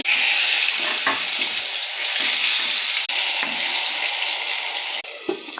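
Eggplant pieces hit hot oil in a pan and fry with a loud, steady sizzle, broken briefly by a couple of soft clunks as they settle, close up and with no one speaking.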